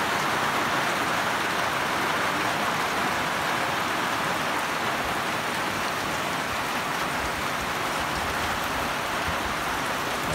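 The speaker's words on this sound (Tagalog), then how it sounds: "Bising sa ulan." Heavy rain falls in a constant, dense hiss that stays loud and unbroken from start to end, with no voices.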